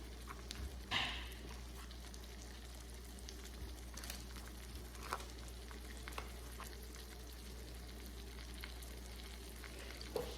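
Floured, egg-dipped flounder fries in a Ninja Foodi Neverstick pan on a Cusimax hot plate turned to its highest setting, a faint, steady sizzle with occasional soft clicks over a low hum.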